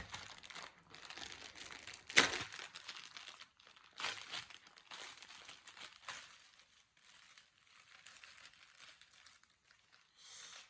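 Plastic packets of crystal diamond-painting diamonds crinkle and tear open up close, with sharp rustling bursts and softer crumpling over several seconds and no talking.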